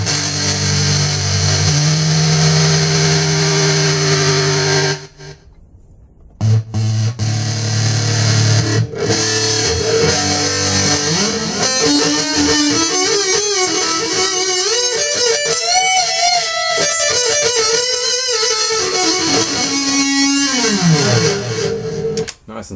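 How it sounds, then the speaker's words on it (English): An electric guitar plays through a synth distortion preset on a MUZA GP300 multi-effects pedal, loud, buzzy and saturated with a faint vibrato, with sustained notes, a short gap, then sliding and bending solo lines. "That's one I call my synth distortion"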